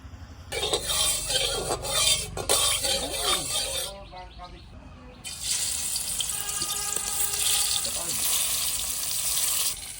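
Mustard oil is poured into a hot wok, giving a rushing, splashy sizzle. The sound is interrupted by a short quiet gap, then continues as a steady hiss, with a voice speaking at times.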